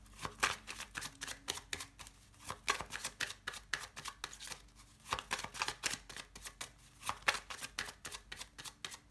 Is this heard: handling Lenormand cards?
yes